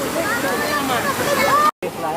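Waterfall at Kondeshwar, Badlapur, rushing as a continuous loud broadband roar with people's voices over it, briefly cut off near the end.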